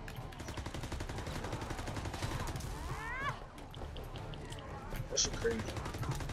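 Rapid zombie-mode gunfire in Call of Duty, fast repeated bursts running under excited close voices talking over the game.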